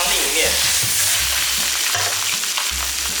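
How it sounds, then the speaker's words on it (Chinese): Fish head frying in hot oil over high heat in a wok, a steady loud sizzle and crackle running throughout with low bumps from the pan. "起锅烧油，热锅凉油下鱼头，看着眼睛还要动，大火把它煎至一面金黄"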